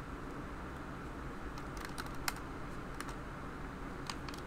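Computer keyboard typing and mouse clicking sound faintly and steadily, with sharper clicks standing out in small clusters over a quiet background hiss.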